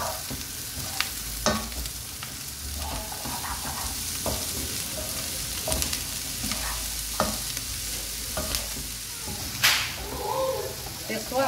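Chopped bell pepper sizzling in a single pan for a one-pot lunch, with intermittent scraping stirs and clacks of a utensil over a steady frying hiss, moderately close.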